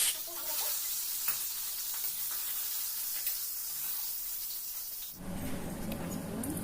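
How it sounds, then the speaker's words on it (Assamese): Five-spice (panch phoron) and a dried chili sizzle in hot oil for dal, a steady close hiss that turns louder and fuller near the end, with no voices over it. "একেখিনি তেলতে দিছোঁ পাঁচফোৰণ আৰু লগতে এটা শুকান জলকীয়া"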